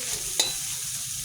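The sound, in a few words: stirring masoor dal with carrots in a pan after adding salt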